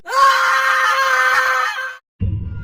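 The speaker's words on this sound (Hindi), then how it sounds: "उसके गले से एक जोरदार चीख निकली" A loud, shrill human scream of terror from a horror story, held for about two seconds, then cut off and followed by a brief low rumble.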